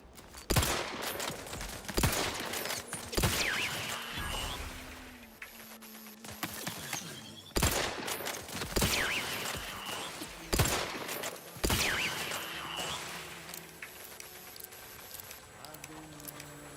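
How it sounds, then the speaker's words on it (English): A triple-barrel shotgun fires repeatedly in the video game The Outer Worlds 2. Loud, booming blasts come in short clusters separated by gaps, with mechanical reload clacks and game effects between them. "Triple barrel shotgun."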